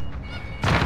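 A short, muffled lull breaks into a sudden loud video game explosion as a helicopter blows up from a Semtex charge, a booming burst that fills the end of the moment.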